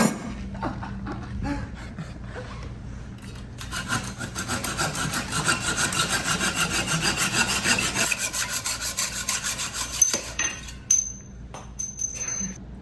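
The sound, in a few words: sawing through a bicycle fork steerer tube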